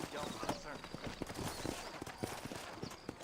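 Horse hooves clip-clop at a steady walking pace through a town in Red Dead Redemption 2, rhythmic and fairly close, under continuous background noise.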